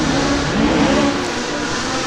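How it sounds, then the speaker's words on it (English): An HSV VXR8 Club Sport V8 car at a hillclimb, its loud engine note roaring steadily and close throughout, revving hard as it powers through a corner. "Everyone loves the sound of a V8."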